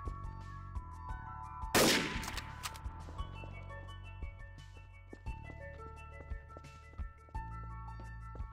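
Glock pistol shots in a video game: one sharp loud blast near the start, then a string of lighter, irregular pops and clicks against steady background music.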